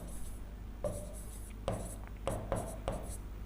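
Chalk or marker scratches across a board during a physics lesson on change in velocity, with several short writing strokes in bursts over a steady room hum.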